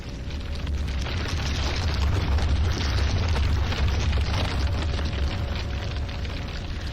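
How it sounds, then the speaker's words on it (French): An explosion effect depicting the Big Bang swells into a continuous deep roaring rumble, loud and sustained throughout, with no pauses or distinct blasts. "Sa chaleur et sa densité sont extrêmes, et elle explose."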